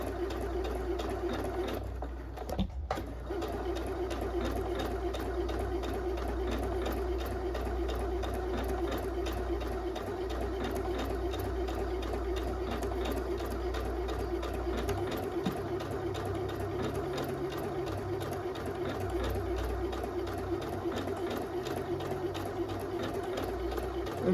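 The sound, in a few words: sewing machine stitching a hem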